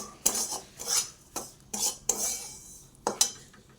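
A metal spoon scrapes and clanks against a pan while semolina for pineapple sheera is stirred and roasted, in about seven distinct close strokes with no talk.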